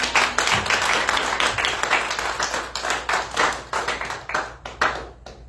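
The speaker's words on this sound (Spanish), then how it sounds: "Todos denle un aplauso al Señor." A church congregation claps in praise during a Spanish-language service, a dense burst of many hands that thins into scattered, uneven claps toward the end, fairly close and loud with no talk over it.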